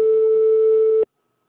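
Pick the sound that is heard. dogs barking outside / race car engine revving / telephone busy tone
telephone busy tone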